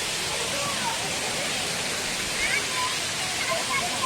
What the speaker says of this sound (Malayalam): നമ്മളിവിടെ വന്നു ഈ ഒരു വെള്ളച്ചാട്ടം കണ്ടു.